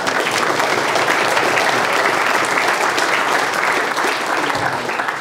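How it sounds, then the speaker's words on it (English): A lecture audience in a large hall gives a round of steady, dense applause that holds at an even level throughout, with no talking over it. "that's probably worth a round of applause"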